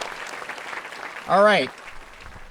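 Audience applause at a talk on occupational therapy for MS patients fades out as a light, diffuse patter before a speaker's voice cuts in, then near silence.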